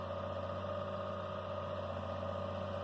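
A steady low tractor engine idles continuously with a constant hum and mild vibration, no voices over it, on a farm.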